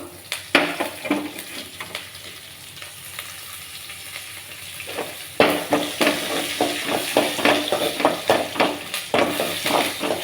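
Dried red chillies and curry leaves fry in hot oil, a continuous crackling sizzle punctuated by repeated scraping and clinking strokes of a stirring spoon against the pan, growing busier and louder partway through.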